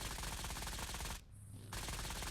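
Rapid automatic gunfire in the battle royale video game PUBG, a dense, continuous rattle of shots that breaks off for a brief moment before resuming, heard alone.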